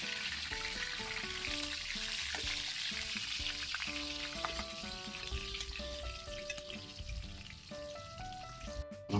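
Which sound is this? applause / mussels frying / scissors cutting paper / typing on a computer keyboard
mussels frying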